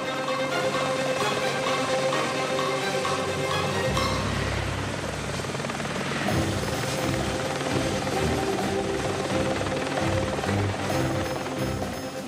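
Helicopter lifting off from a ship's flight deck, a loud continuous rotor and engine roar that swells partway through and stays steady and close, with no voices.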